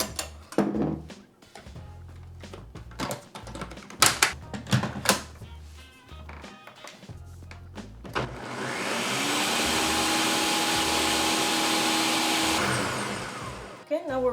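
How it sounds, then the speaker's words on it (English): Clattering and knocking of ingredients being added give way to a blender whirring steadily through protein pancake batter with vanilla extract and maple syrup, running loud and continuous for several seconds before cutting off. "And we're ready to blend everything."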